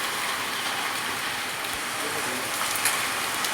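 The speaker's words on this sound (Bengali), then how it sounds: "মুষলধারে বৃষ্টি হচ্ছে আর শিল পড়ছে" Torrential rain mixed with falling hailstones roars as a loud, dense, unbroken hiss, close by, with a few sharper impacts poking through the steady downpour.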